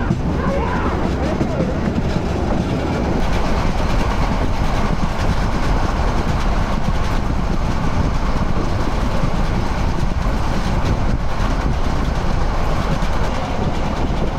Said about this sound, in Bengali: এখন মনে হচ্ছে একটু স্পিডে চলছে আমাদের চট্টগ্রাম এক্সপ্রেস